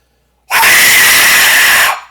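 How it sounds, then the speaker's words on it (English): A carved bone whistle gives one loud, harsh, breathy scream, sustained for about a second and a half up close, then trails off quickly. "And those different tones and different directions is what gives it that screaming sound effect."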